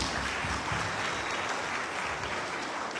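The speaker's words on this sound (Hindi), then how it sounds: "जोरदार तालियां मिलकर बजाएंगे" An audience at a corporate achievers' event in Dubai claps in a dense, steady burst of applause that fills the room evenly, loud and sustained with no pauses or voices on top.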